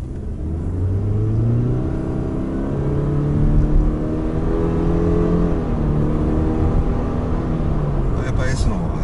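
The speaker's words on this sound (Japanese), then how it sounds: "ちょっとまた後ろ来てないんでスピードを落として加速をしてみたいと思います。" Subaru Impreza ST-G FWD accelerating in S mode on the road after slowing down. The engine tone climbs steadily with rising harmonics over a continuous road rumble, heard from inside the car.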